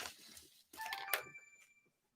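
A mobile phone rings somewhere nearby, muffled and faint, with a couple of short bursts of ringtone separated by a brief gap, then silence.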